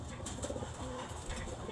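A young bird fallen from a clothesline, not yet able to fly, gives soft faint coos and short calls, close by and quiet, with little else around.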